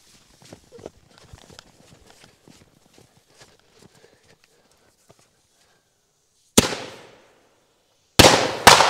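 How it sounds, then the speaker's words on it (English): A double breaker firework shell, lit upside down in snow, fires with a sharp loud blast and then a second even louder burst; soft crunching footsteps and faint shuffling come before it. "We're going to light this, and this is a double breaker"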